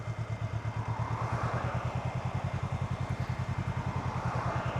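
Honda Rebel 500 motorcycle pulling away from a stop, its engine thumping in a steady, even pulse close by as the clutch is let out and throttle is added.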